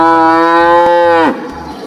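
A cow moos in one loud, sustained, close call as a sound effect that drops off abruptly, with no other sounds around it.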